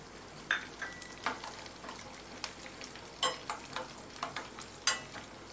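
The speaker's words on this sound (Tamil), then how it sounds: "இதை வந்து கொஞ்சம் கோல்டன் ப்ரௌன் வர்ற மாதிரி எல்லாத்தையும் சேர்த்து வறுத்துக்க போகிறோம்." Raisins fry in a pan alongside other ingredients for a Navaratri corn flour halwa, a steady soft sizzle broken by scattered scraping stir strokes, fairly close and alone without talk.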